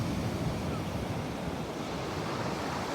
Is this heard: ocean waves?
yes